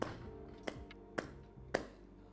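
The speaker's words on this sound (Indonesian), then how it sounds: "kalau gua biasanya gua ketok ke tangan gini teman-teman ya" An espresso basket is knocked against a palm to loosen dry, hot coffee grounds: four soft, close taps spaced about half a second apart in a quiet room.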